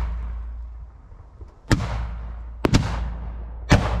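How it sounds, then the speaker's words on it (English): Traditional Japanese fireworks made from potassium nitrate, sulfur and charcoal bursting in three sharp, loud, booming explosions about a second apart, each trailing off over a low background rumble. "Traditional fireworks in the Edo period were made of 3 materials: potassium nitrate, sulfur, and charcoal"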